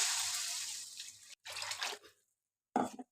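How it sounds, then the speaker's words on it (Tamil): Tamarind water is poured into a simmering anchovy fish curry, giving a close, splashing liquid pour that fades, stops, then comes back in a short final burst. "இப்போ இதில் கரைச்சி வச்சிருக்க புளி தண்ணி ஊற்றிடலாம்."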